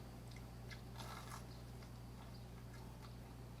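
A few quiet, crisp bites into the crispy skin of buttermilk fried chicken, close up, crunching softly over a steady low background hum, with no talking.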